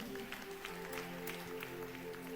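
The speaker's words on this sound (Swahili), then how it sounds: "Tupigie Arias makofi mazuri." A church congregation claps to welcome a young man, a loose patter of hand claps running steadily under sustained keyboard chords.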